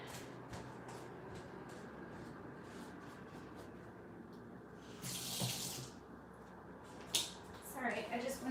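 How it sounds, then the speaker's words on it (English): An item rinsed quickly under a running water tap, a steady hiss of flowing water with a louder splashing burst and short splashes, while a person talks in the background. "I just wanted to give it that quick little wash."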